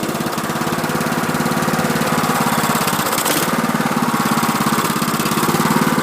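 A 2006 Toro LX 420 Twin Cam riding mower runs steadily nearby on a small test amount of fuel, its engine giving a loud, even, rapidly pulsing drone with a rough mechanical rattle that barely changes over the stretch.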